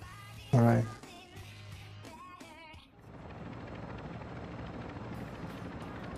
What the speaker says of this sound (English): You ready to call the chopper, right? Oh, yeah, here it comes.